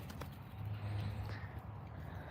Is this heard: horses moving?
yes